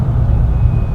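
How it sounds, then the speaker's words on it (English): A steady, heavy C8 Corvette engine rumble holds low and constant for the whole second, loud and close, with no clear rise in revs. "engine gets a little louder"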